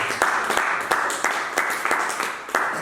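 A church congregation claps during a worship service, with scattered sharp hand claps rising and falling over a steady crowd wash for a few seconds.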